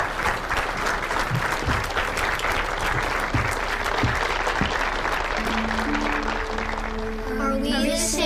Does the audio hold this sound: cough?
no